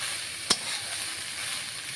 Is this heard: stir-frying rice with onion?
yes